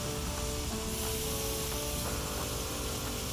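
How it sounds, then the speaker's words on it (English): Marinated chicken kebabs sizzle steadily on the hot grates of a Weber Q gas grill, a loud, continuous frying hiss with no talk over it. "Listen to that beautiful sounding sizzle as soon as the kebabs hit the grill."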